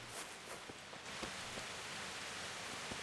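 Steady soft rain hisses in Kingdom Come: Deliverance, with scattered drop taps over a faint, even wash and no voices.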